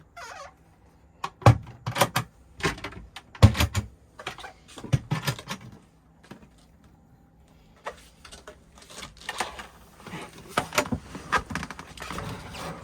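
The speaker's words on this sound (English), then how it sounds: "Pressing the catches in, you can open your overhead storage." A series of sharp plastic clicks and snaps as the catches of overhead storage cupboards in a Hobby T-550FS caravan are pressed, with soft creaks of cupboard doors being opened, scattered irregularly and close by.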